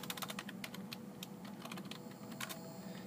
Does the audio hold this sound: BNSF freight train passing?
no